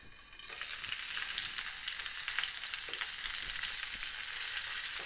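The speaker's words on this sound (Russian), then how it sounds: "Закрываем крышкой и жарим примерно по 3-4 минуты с каждой стороны." Garlic pork chops fry in a covered pan over medium heat, giving a steady, dense sizzle that runs evenly throughout with no talking.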